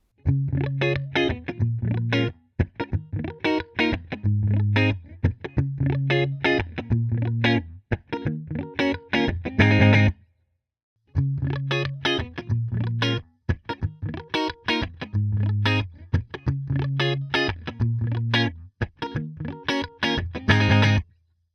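A distorted, driven electric guitar through a Fender Princeton Reverb tube amp, miked up, plays chunky, rhythmic chords in repeated phrases, with a brief pause midway before the riff resumes.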